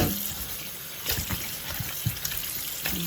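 Tap water runs steadily into a kitchen sink while squid is washed, a continuous close hiss and splash with a few louder splashes and knocks as something moves under the stream.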